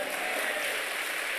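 A congregation claps in a church during an evening revival service, a dense, steady patter of many hands filling the room without a break, with no speech over it.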